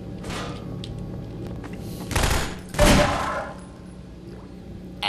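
Gunfire in the video game Half-Life 2: two loud, broad shots bursting out in quick succession a second apart, each with a short decaying tail, over a low steady game-world hum.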